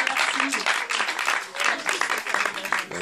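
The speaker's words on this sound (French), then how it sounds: "J'adore, on l'applaudit." A French audience breaks into applause, lively scattered clapping with cheering and voices mixed in throughout.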